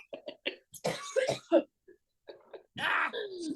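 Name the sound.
coughing and throat clearing from seasonal allergies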